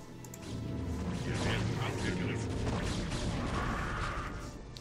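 Cannons firing in the StarCraft video game, a dense stretch of crashing, booming impacts and mechanical clatter that runs for several seconds at a fairly quiet level.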